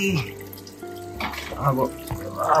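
Water runs and splashes from a tap into a basin in a steady, fairly quiet flow, with faint clatter and murmuring in the background.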